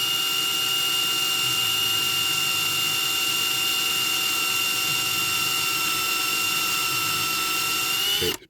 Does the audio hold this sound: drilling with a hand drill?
yes